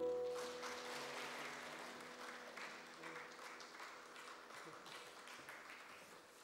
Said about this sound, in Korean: 우리 다시 한번 큰 박수 주십시오.